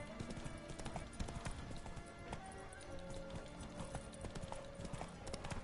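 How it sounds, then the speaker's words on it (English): Roach, a horse in The Witcher 3 video game, trots with steady rhythmic hoof clip-clops alongside game ambience and faint tonal music. "Vou chamar o meu cavalo."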